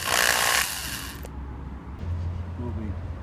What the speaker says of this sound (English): And drill right here.